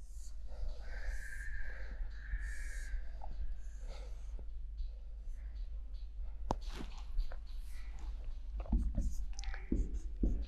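A pen or pencil scratches softly on paper while a geometry diagram is drawn for a class 8 maths lesson, with quiet intermittent strokes and faint breathing or murmured speech nearby.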